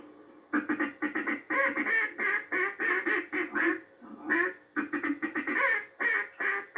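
A handheld duck call is blown in quick runs of loud, raspy quacks imitating a duck, calling to ducks turning back toward a hunting spot, close and steady with brief breaths between sequences.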